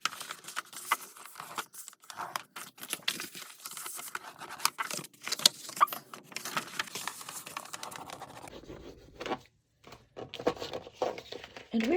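Paper mini album pages being folded and burnished by hand, a quiet run of crinkling, rubbing and tapping sounds, close and faint, with a short pause near the end.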